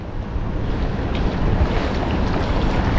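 Wind gusting over open water beside a small fishing boat while a net is readied, a steady loud rush with microphone buffeting that swells slightly midway and carries on without speech.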